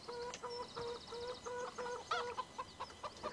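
Chickens in a pen in Farming Simulator 2013 cluck in a steady run of short, repeated calls, fairly close and clear, with no talking over them.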